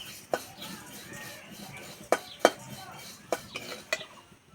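Flattened rice (chira) being fried in a pan, heard as a quiet background with about six sharp clinks and scrapes of a spatula against the pan, irregularly spaced.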